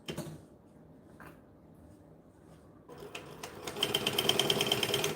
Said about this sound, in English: We're just gonna go back a few stitches